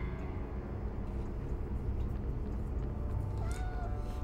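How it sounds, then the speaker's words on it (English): A cat screams in the Harry Potter and the Sorcerer's Stone video game, a short wavering yowl near the end that rises over a dense, steady bed of low game noise and soundtrack. "Can confirm, cats sometimes scream."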